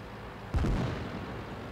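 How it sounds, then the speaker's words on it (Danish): A single sharp in-game tank gunshot in World of Tanks rings out abruptly against a steady background hum, then its echoing tail slowly fades. "Der kom lige et skud, der kunne jeg høre."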